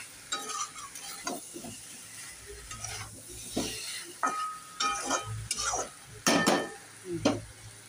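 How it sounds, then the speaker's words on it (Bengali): Spices are sautéed in a pan at home, heard as quiet, intermittent stirring scrapes and sharp utensil clinks against the metal, with a faint sizzle in between the louder knocks. "এটা একটু কষে নিই, কষতে সময় লাগবে"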